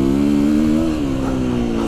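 A 2020 KTM 350-EXCF enduro motorcycle engine drones loudly and steadily close by while riding, the pitch dipping slightly as the throttle eases.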